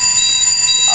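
Internal buzzer of an FM 200 fire suppression control panel during installation testing, a steady high electronic tone sounding continuously, loud and close, with a faint voice starting at the very end.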